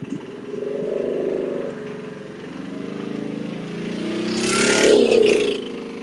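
A car engine revs, rising and falling in a smooth drone that swells to a louder peak near the end, fairly close and heard alone without speech.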